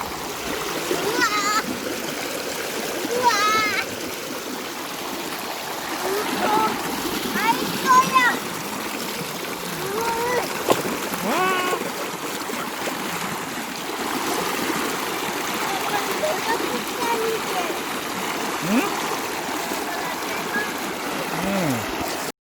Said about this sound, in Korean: 아이들은 계곡물에서 정말 신나게 놀았어요